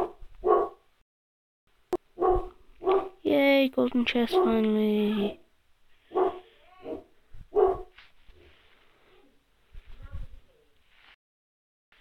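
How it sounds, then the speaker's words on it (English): A pet dog barks repeatedly in short sharp bursts at close range while a person talks over a mobile card game. "Sorry about my dog, he's annoying."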